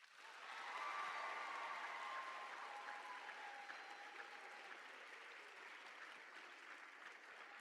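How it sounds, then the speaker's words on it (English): Large crowd applause for faculty at a summer band camp opening session, a broad sustained roar of clapping that swells in the first second and then holds steady, with a faint murmur beneath. "Please give them a round of applause"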